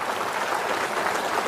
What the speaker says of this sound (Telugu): మీరందరూ కూడా గట్టిగా చప్పట్లు కొట్టి అభినందించాల్సిన అవసరం ఉంది